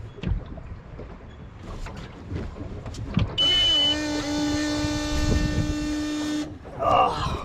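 A Ski Centurion boat engine runs on its trailer at a lake, a steady tonal mechanical drone starting abruptly partway through and holding for about three seconds before cutting off, with scattered clatter and handling noise before it.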